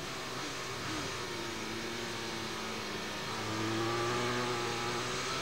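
A race car on the Nürburgring Nordschleife lifts off and brakes hard into a chicane, its engine droning steadily from onboard with a shifting tone and a slight swell toward the end.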